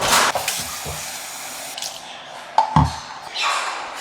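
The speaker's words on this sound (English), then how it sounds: "I'm gonna fill this up." Water splashes and hisses into a spray bottle in uneven bursts, with a few gurgles and drips, close by and without talking.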